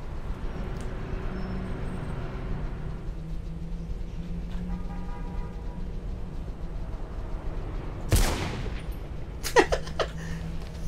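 Two sharp gunshots ring out in Mirror's Edge during a weapon-disarm sequence, a few seconds apart, over a steady low ambient hum.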